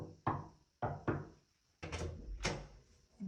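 Knocking on a door in the game Alien: Romulus, loud close thumps in irregular groups, a pair of raps, then a longer cluster, with hollow resonant decays and no talk.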